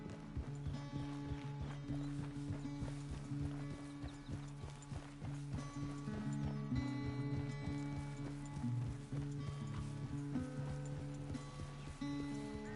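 Hooves of a horse in Red Dead Redemption 2 clip-clop at a steady walking rhythm over a bed of loud, sustained orchestral game music, the hoofbeats fairly soft and partly buried under the score.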